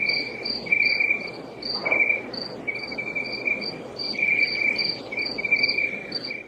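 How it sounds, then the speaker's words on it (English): Night crickets chirp in close, rhythmic, repeating trills at the end of an album track, layered over a soft, hazy background. "I'm assuming those are night crickets."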